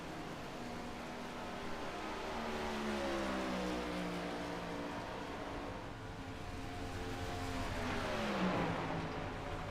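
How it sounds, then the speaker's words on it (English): A NASCAR race car engine drones steadily in the iRacing video game at Charlotte, its pitch sliding down and rising again like a downshift, with other cars audible nearby throughout. "I believe that was a downshift I heard"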